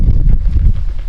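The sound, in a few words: wind blowing outdoors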